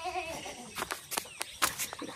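Goats in their shed, sheltered by tarpaulin, bleat several times in quick succession, close and fairly loud, with short wavering cries overlapping.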